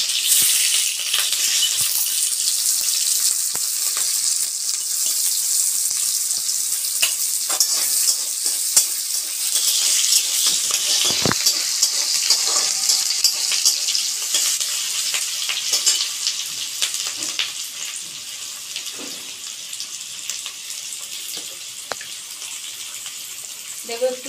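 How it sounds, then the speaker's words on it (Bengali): Diced capsicum, green chili and tomato frying in a pan for chili chicken, a long, steady sizzle with scattered crackles and stirring clicks close by, no voices. "এবার আমি এক এক করে ভেজে নেব। আমি ডুমো ডুমো করে কেটে নিয়েছি ক্যাপসিকাম, কাঁচা লঙ্কা আর টমেটো টুকরো করে নিয়েছি।"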